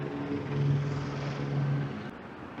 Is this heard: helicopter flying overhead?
yes